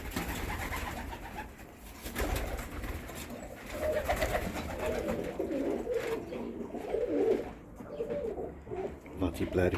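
Tippler pigeons in a loft giving soft, low cooing calls that come and go close by, while someone talks over them throughout.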